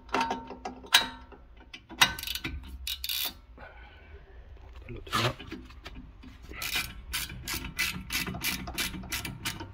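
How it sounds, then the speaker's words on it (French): Socket wrench ratcheting while loosening brake caliper bolts on a 2014 VW Polo, close clicking runs and metallic rubbing in a quiet workshop, with intermittent clanks and no talking. "On prend une douille de 7 en clé alien et on vient desserrer."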